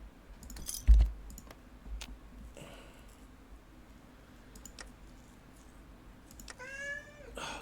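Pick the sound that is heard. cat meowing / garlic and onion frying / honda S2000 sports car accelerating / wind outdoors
cat meowing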